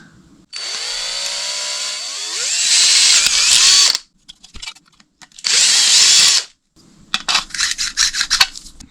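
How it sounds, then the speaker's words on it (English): A power drill whines through a plastic radio-controlled car part, drilling a 5mm hole in three bursts, rising in pitch and load during the first long run, then shorter grinding bursts with rattling pauses between. "It is easier to drill it from this side"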